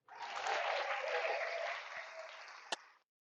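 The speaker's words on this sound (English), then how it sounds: "Make sure we give you a warm round of applause here." A warm round of applause for a guest on a talk show, a brief burst of clapping that swells quickly, holds steady and fades out within about three seconds, with a single sharp knock near the end.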